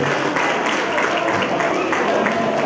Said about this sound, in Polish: I wielkie brawa na senioritek.